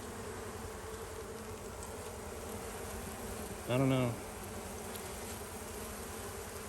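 Honey bees droning steadily around a declining hive, a constant low buzz filling the background, with a brief close voice cutting in partway through.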